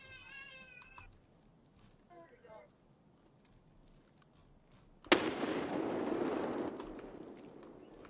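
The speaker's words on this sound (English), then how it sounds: "Someone's fucking chucking a lot of grenades." A single grenade blast in Escape from Tarkov hits suddenly after a quiet stretch of faint chirps and clicks, a sharp crack followed by a loud rumbling decay lasting about two seconds.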